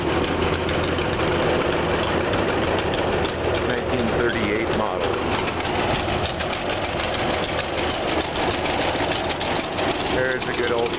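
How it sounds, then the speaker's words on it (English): A restored John Deere Model B tractor engine running at an estate auction, a loud, steady, close chugging idle with a knocking beat throughout, with faint voices speaking beneath the engine noise. "John Deere tractor."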